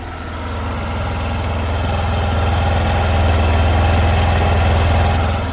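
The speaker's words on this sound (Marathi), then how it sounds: "इंजिन फास्ट झालं आहे" A Suzuki Burgman scooter's engine runs at a steady, fast idle from an engine-fast fault, giving a loud, continuous low hum with a slight rise in level and no talking.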